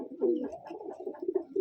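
A Madrasi pigeon coos close by, a run of soft, low, throaty pulses repeating in a quick, steady rhythm.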